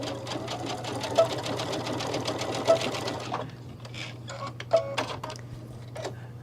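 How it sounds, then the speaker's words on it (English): A sewing machine stitching a back stitch on a garden lattice clutch bag: a fast, even run of needle clatter for about three seconds, then short stop-start bursts of stitching with small clicks, close up. "I like to do this at about 1/4 of an inch. And my back stitch, thank you, Kate."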